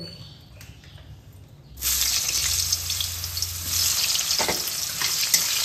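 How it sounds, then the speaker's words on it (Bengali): Eggplant slices hit hot fish oil after a quiet start and burst into a loud, continuous sizzle that carries on with faint stirring noises. "এবার বেগুনটা ভেজে নেব।"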